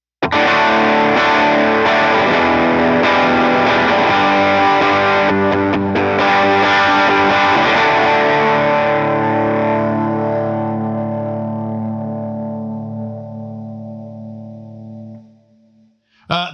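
Electric guitar with distortion and chorus effects plays a loud, thick rock chord intro, the chords ringing on and slowly decaying before a brief final noise.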